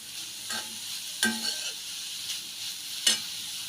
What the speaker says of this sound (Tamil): நம்ம நல்லா கலக்கி விட்டுருங்க ஒரு ரெண்டு நிமிஷம் நல்லா வதங்கட்டும்